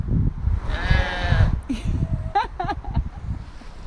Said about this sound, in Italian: Ci sono delle pecore.